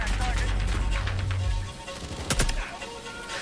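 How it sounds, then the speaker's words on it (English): Suppressed gunfire from a Call of Duty: Modern Warfare 2 game trailer, a quick burst of muffled shots rising over a low rumbling backdrop near the end of a short stretch of dense action sound. "The sounds of the silencers are what's really impressing me right now."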